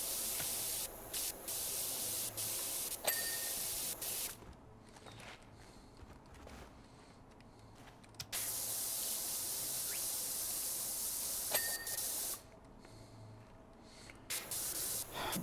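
Water sprays steadily from a cleaning nozzle in a bright hissing rush, cutting out in two longer pauses and restarting, with faint clicks and knocks around it.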